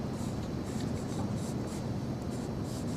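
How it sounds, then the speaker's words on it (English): A pencil draws a continuous contour line on paper, giving a steady, close, soft scratching and rubbing that runs without pause for the full three seconds, with no talking. "So this would be continuous contour drawing. Pencil doesn't leave the hand or the paper."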